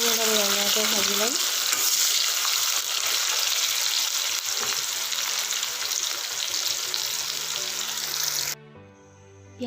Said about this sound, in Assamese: পিঁয়াজখিনি অলপ ৰঙাকৈ ভাজি ল'ম।